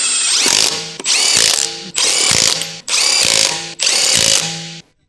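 An impact wrench with a long 19mm socket snugs lug nuts on a 2012-2016 Honda CR-V in five loud, evenly spaced rattling bursts, each about a second long with short gaps between.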